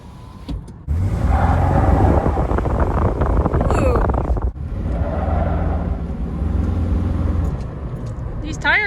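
Jeep Liberty on Maxxis Razor tires driving over a thin layer of snow, a steady loud rumble of engine, tires and wind noise running throughout with a brief dip midway.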